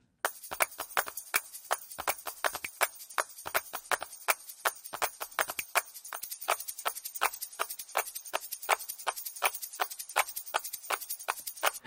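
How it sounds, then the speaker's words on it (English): A sampled percussion pattern of hand claps, tambourines and shakers plays alone in quick, uneven bursts that gallop along steadily, sharp and bright throughout. "those are hand claps and some tambourines and some shakers"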